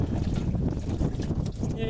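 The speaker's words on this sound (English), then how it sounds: "Yeah, it's a little windy." Wind blows outdoors beside a blue 1991 Ford F-150 during an oil change, buffeting the microphone in rough, loud gusts across the brief moment.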